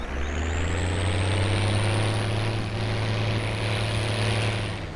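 A farm vehicle in Farming Simulator 17 drives across a field on Giants Island, giving a steady, loud low engine drone with a high whine above it. The sound holds constant throughout with no talking.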